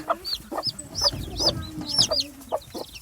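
Baby chickens fighting and clucking, a close, busy scatter of high chirps and short clucks with scuffling in between, repeating irregularly throughout.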